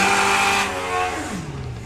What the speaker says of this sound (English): we can hear engines below us once again